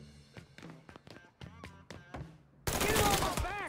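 Gunfire aimed at an enemy in the video game Mafia III, a loud dense burst of shots arriving suddenly near the end after a stretch of speech and tonal game sounds.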